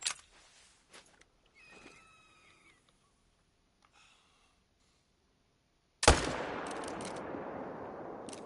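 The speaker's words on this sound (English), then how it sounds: "We're going to shoot that bull." A single loud gunshot in theHunter: Call of the Wild, fired at a bull, cracks out after a stretch of faint rustling and footsteps, then rings into a long, fading reverberant tail.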